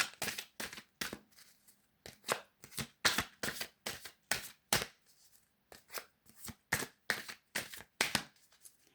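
A deck of oracle cards is shuffled by hand, giving a quick, crisp riffling pattern of repeated short bursts with brief pauses between them, close and clear, with no talking.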